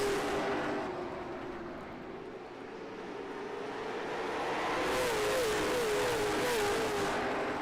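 Late model race car engines roaring together at the green flag at Southern National Raceway in a racing video game, a continuous droning rumble that swells as the pack accelerates, with no talking.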